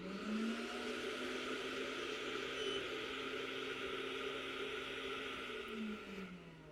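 A compact 13-inch floor scrubber's vacuum motor runs steadily to suck up cleaning slurry, a loud continuous whir with a constant tone that winds down near the end as the motor shuts off.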